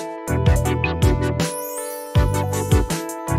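Short electronic track built from free synth instruments in Ableton Live Lite: punchy bass-heavy synth stabs and plucks in a steady rhythm, a rising sweep in the middle, then the stabbing pattern returns, loud and clean with no voices.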